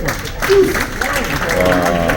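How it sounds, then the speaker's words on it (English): An audience on a cruise ship applauds as a host speaks over the clapping, with a short burst of steady applause under the voice. "Let's give her a round of applause, ladies and gentlemen."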